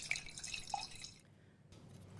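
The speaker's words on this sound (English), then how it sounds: "a quaich has two handles, and you pour whisky into the quaich" Whisky is poured into a two-handled quaich, a quiet trickle of liquid with a few bright splashy drips, close and faint, stopping after about a second, followed by near silence.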